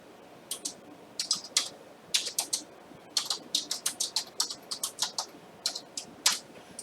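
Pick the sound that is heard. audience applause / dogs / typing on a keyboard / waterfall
typing on a keyboard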